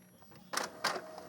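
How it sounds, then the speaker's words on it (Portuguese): An inkjet printer starting up, two quick mechanical whirring bursts from the print mechanism after a faint click, close and moderately loud. "quando a impressora começa a funcionar"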